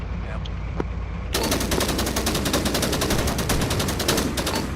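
Sustained automatic gunfire in a co-op military shooter game, a rapid continuous burst that erupts after a quieter stretch and rattles on loud and close, with faint radio chatter in the background.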